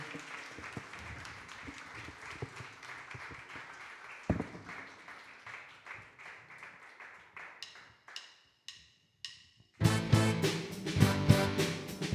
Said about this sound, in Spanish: Vamos a levantar al Señor con un fuerte aplauso de agradecimiento.